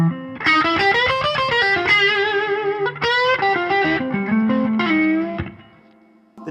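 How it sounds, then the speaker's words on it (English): An electric guitar plays a run of sustained, distorted notes with heavy reverb added, ringing loudly and continuously before trailing off near the end. "you turn the reverb up to 4 and it's cool"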